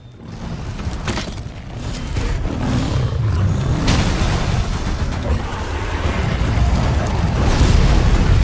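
The fire elder dragon Teostra exploding in Monster Hunter World: Iceborne gives a sustained, loud roaring boom that swells and rumbles for several seconds, dense and continuous, with no talk over it.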